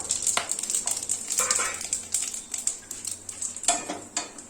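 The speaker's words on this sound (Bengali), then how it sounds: "একটু সাজিরে এটা ফোড়ন দিলাম" Whole dried chili, cardamom, cinnamon, clove, peppercorns and cumin tempering in hot oil in a pan, with a close crackling sizzle, scraping stirs and light metallic clinks of a spoon against the pan.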